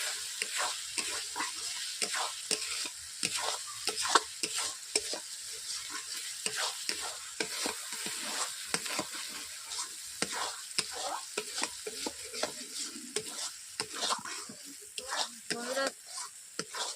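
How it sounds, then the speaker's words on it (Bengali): Spice masala being stir-fried with ingredients for a chicken dish, a continuous bright sizzle broken by frequent rhythmic scraping of a spatula against the pan, close and steady. "বন্ধুরা দেখতেই পাচ্ছেন এই সব উপকরণ দিয়ে আমি কষিয়ে নিচ্ছি।"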